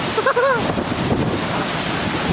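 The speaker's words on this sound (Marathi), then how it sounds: "पाण्याचा फवारा कंटिन्यू उडतो नाही का, कंटिन्यू पाणी बाई, कंटिन्यू पाणी" Constant spray from the Darekar waterfall rushes as a loud, broadband roar with wind buffeting the microphone, steady throughout, with a brief tonal call early on.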